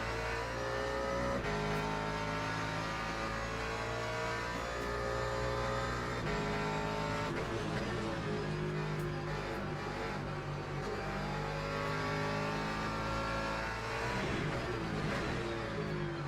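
Hypercar engine at full throttle in the Le Mans Ultimate racing game, a loud, sustained high-pitched roar with shifting gear tones and brief revving changes, steady throughout with no talking.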